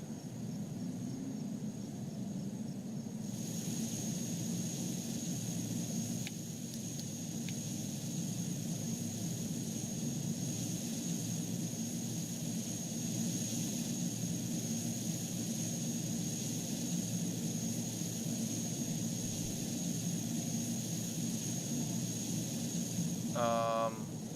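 An airplane taxis at an airport in the simulation game Airport CEO, a steady droning engine hum holding constant and fairly loud for the whole stretch, with a brief rising blip near the end.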